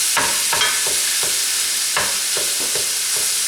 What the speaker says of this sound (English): I'm going to let this brown while I break it up with a wooden spatula